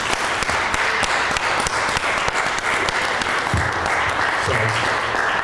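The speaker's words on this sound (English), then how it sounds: "if you would join me in a round of applause for their amazing staff and just an amazing facility" A heritage center audience at a fiesta event applauds, steady dense clapping from a sizeable crowd that holds evenly throughout.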